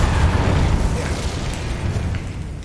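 A fiery blast from the Incendio spell in Hogwarts Legacy bursts out as a loud, rumbling whoosh. It booms at the start and then fades off over a few seconds, with no talking.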